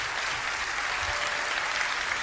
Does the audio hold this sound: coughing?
no